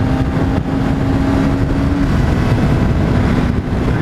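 A Suzuki GSX-R motorcycle engine pulling after a downshift to overtake at around 60 mph, a loud steady engine drone with wind rush, close and continuous, no voices.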